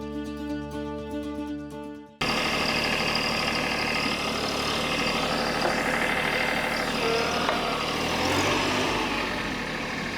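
A TYM 264 compact tractor engine runs steadily at idle, a loud, continuous mid-pitched rumble with constant knocking texture that sets in abruptly after a short stretch of music.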